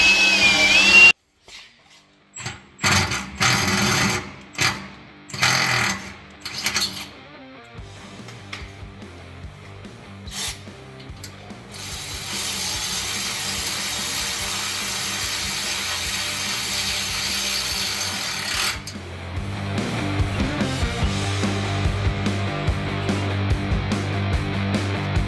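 Drilling and tapping holes in an old International off-road vehicle chassis in a shop: intermittent bursts of drill whine and ratcheting clicks, then a long steady mechanical run, close and fairly loud, with no talk.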